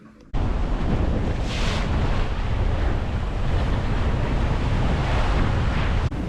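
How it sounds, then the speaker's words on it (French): Strong wind of about 25 knots roars steadily over the open North Atlantic, buffeting the microphone aboard a sailboat, with rushing surf-like noise throughout and no voices. "Ça y est, le vent est revenu."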